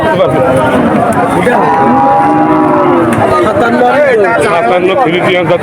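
Cattle lowing amid a busy crowd at a cattle market, with constant chatter and people calling out close by, the animal calls blending into the steady market din.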